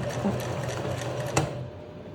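Sewing machine stitching a seam on a striped shirt, running as a steady, close mechanical whir with rapid needle ticks, briefly slowing before it stops.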